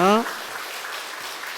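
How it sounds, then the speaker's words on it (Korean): A congregation claps to welcome the pastor at a Sunday worship service: a steady, even wash of applause that follows a brief voice at the very start. "우리 목사님 나오실 때 우리 박수로 크게 환영해 주시기 원합니다"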